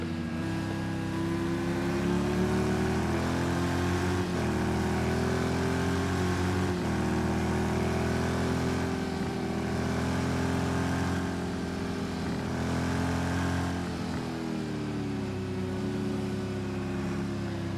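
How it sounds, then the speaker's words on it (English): A Corvette GTE race car engine howls around the Nürburgring Nordschleife, a loud steady roar heard from on board, rising in pitch and dropping sharply at several gear shifts. "It sounds like a Corvette."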